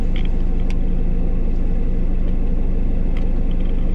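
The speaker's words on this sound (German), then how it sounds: "So, jetzt fährt das nächste Polizeiauto ein Stück vor." A police car drives ahead along the route of a Sorbian Easter riding procession, giving a steady, close engine rumble with a low idling drone that holds unchanged throughout.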